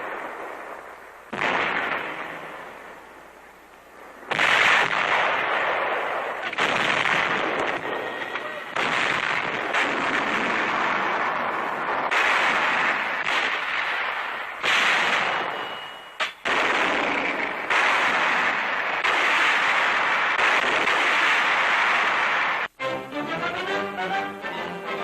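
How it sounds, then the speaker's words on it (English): Heavy 105 and 155 millimeter howitzers fire on Guadalcanal in a series of loud booming blasts, repeated every few seconds with rumbling decay between shots, under a narrator's voice on an old wartime newsreel soundtrack. "Powerful 105 and 155 millimeter howitzers blasting the Japs from their last"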